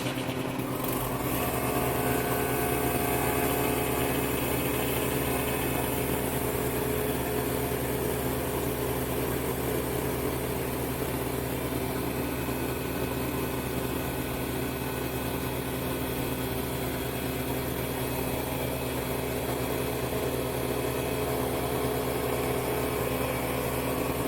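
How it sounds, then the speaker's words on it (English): A Harvest Right Version 6 freeze dryer's vacuum pump runs loud and steady, a continuous droning motor hum with an even tone held for the whole stretch, no voices. "There's the pump kicking on."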